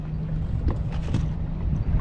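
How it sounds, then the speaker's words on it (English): Wind buffets a fishing boat on open water, a steady low rumbling roar with gusty pulses close to the microphone and no talking. "The wind has picked up a good amount. I don't particularly like the way that sounds on video"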